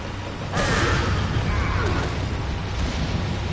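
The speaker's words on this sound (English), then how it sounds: "Throw a grenade down this way." A thrown grenade explodes in Resident Evil 4 on PS4 in Professional Mode. A loud, broad boom comes up suddenly and stays dense with rumbling debris and noise, with faint talk underneath.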